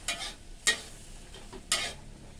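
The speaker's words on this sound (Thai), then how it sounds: "ใส่ลงไปแล้วก็ผัดผัดผัด" Wide rice noodles stir-fried with chopped chicken and kale stems in a pan, heard as three short scraping bursts of stirring over a soft sizzle.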